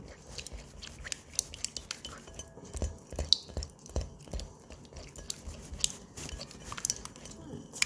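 Yogurt, eggs and oil stirred in a mixing bowl for dough, giving soft irregular scrapes and clinks of a utensil against the bowl, quiet and close, no talking.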